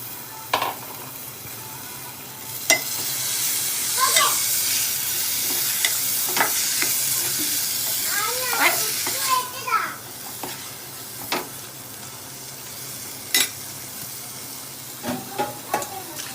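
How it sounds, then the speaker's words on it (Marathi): Moth beans hit a roasted masala in a pan and sizzle steadily while being stirred, with spoon scrapes and background voices, including children, chattering intermittently. "आता आपण मटकी जे घेतले ते मटकी यामध्ये टाकून घेऊया"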